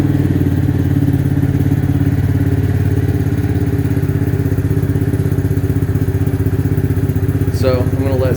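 A 2022 XPro X24 250cc motorcycle with 505 miles, after sitting unused, idles steadily with a close, loud, continuous low putter that holds a constant rhythm throughout.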